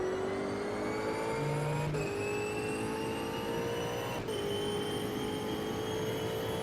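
Ultima GTR race car engine in the Automobilista racing sim holds a high, steady drone with two quick gear-shift dips, a smooth continuous whine heard alone without talk.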